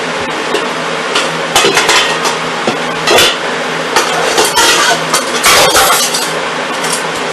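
Metal saucepan handled on a stovetop while making chicken parmesan: sharp clanks, scrapes and clinks come in irregular bursts, close and fairly loud, with no talking.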